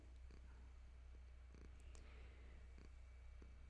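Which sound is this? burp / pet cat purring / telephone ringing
pet cat purring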